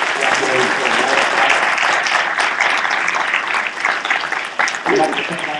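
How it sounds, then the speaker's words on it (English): An audience at a newspaper-hosted evening forum in Galveston County claps in a sustained round of applause, loud and close, with voices talking over the clapping as it continues and begins to thin near the end. "Please have a round of applause for congratulations."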